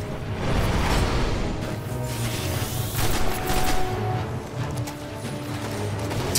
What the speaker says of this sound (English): that grenade just decimated all of them